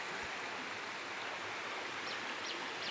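A river stream flows in a steady broadband rush, fairly faint and continuous, with a few brief high chirps over it and no talking.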